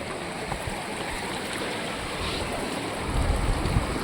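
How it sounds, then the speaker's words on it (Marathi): Water from a waterfall and a stream rushes steadily in a broad, continuous wash of noise that grows a little louder toward the end. "मस्तपैकी धबधबा झरणा बिरणा"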